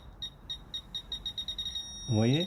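A series of short high electronic beeps from a Fisher F-Pulse metal detector repeating faster and faster, with a brief voice speaking at the end.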